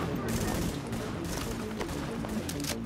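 Rapid gunfire from Tom Clancy's The Division, a third-person shooter, crackles in dense, sustained bursts with sharp repeated transients across the whole stretch; a faint voice is partly mixed in.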